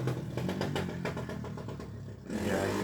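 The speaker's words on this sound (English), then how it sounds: "And that four-wheeler's coming back." A four-wheeler ATV engine passes by, its mid-pitched motor clattering and revving steadily, then swelling again near the end as it comes back.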